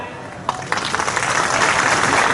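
A crowd at a Chief Minister's public meeting in Bemetara applauds loudly to welcome a senior minister, a dense sustained clapping that builds after a sharp first burst and continues steadily, with a voice faintly underneath.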